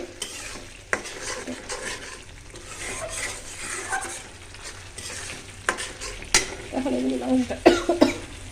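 Spices stir-fried in a pan: sizzling under scraping spoon strokes, with a brief cough early and louder clatters of utensil against pan toward the end.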